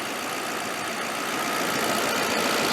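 A car engine idles steadily in a custom woodie wagon, a smooth, even broadband running sound with no speech, close and continuous throughout.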